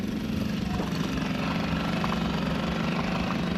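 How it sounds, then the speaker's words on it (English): A sailboat's engine running on the water near Two Harbors, Catalina Island, a steady idling drone with a constant low hum and vibration that never changes, close by and alone without voices. "I wish you would have done that before you started the engine."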